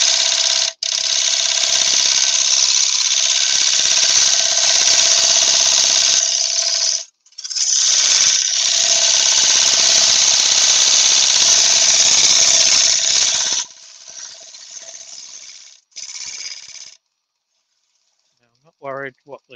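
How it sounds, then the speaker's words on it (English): Heavy industrial lathe cutting metal with a 3/8 parting tool used as a scraper, a loud steady high-pitched grinding scrape in long passes that break off and restart, then shorter bursts fading to quiet. "So I've got a 3/8 parting tool scraper."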